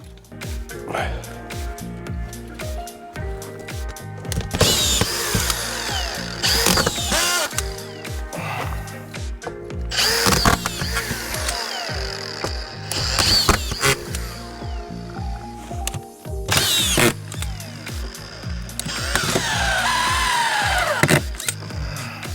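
Makita DFR551Z 18V brushless auto-feed screwdriver driving screws from a fresh collated clip, heard as repeated whirring drive bursts and feed clicks under near-continuous talking.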